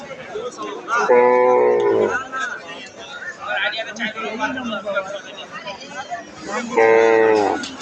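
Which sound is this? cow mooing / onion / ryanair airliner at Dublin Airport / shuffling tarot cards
cow mooing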